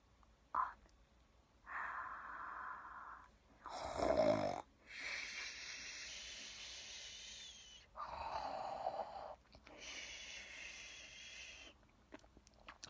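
A voice imitates snoring during a children's story reading, producing a series of drawn-out, rasping snore sounds separated by short quiet gaps, close and clear.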